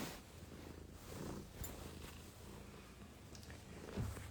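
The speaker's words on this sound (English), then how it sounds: "It's Misty, the naughty cat. Just jumped up on my lap." A cat purring while sitting on a person's lap indoors, a soft, steady, close rumbling purr that continues throughout with a faint low thump near the end.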